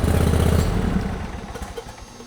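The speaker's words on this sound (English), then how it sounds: "So now we have pressure and the engine does run." A propane-fueled engine runs with a loud, rumbling, clattering idle that eases gradually to a lower, rougher putter over a couple of seconds, close by, with no voices.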